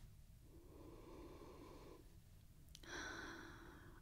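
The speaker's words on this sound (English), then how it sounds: "And take another sniff." During a wine tasting, someone takes two short close nasal sniffs from the glass, quiet and intimate, followed by a brief louder breathy sound.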